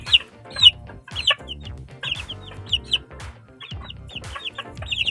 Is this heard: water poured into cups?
no